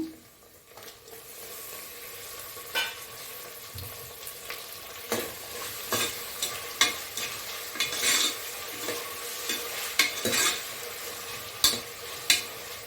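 Ivy gourd cooking with tomato in a pan, a quiet sizzle under repeated spatula scrapes and taps as it is stirred at irregular intervals.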